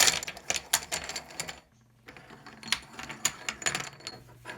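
Small plastic counting chips clatter and click as they are shuffled across a surface in bursts, with a brief pause in the middle.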